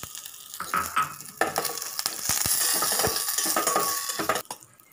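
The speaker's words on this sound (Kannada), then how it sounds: "ಅದಕ್ಕೆ ಇದು ಥರ ಒಗ್ಗರಣೆ ಹಾಕ್ತಿದ್ದೀನಿ" Tempering for coconut chutney, with chana dal, urad dal, curry leaves, chillies and a pinch of asafoetida, sizzles in hot oil while a spoon scrapes and clinks against the small pan, the frying swelling in the middle before dying away.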